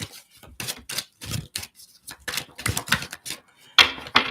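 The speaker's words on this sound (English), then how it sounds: "Let's get a good shuffle." Quick bursts of tarot cards riffling and slapping together in irregular clusters, close up, with short pauses between shuffles.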